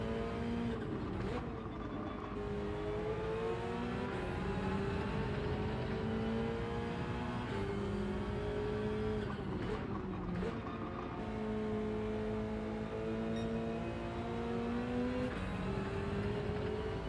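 A Porsche race car on hard tyres in a racing video game, its engine droning steadily and rising through the gears with brief shift dips, loud and close throughout.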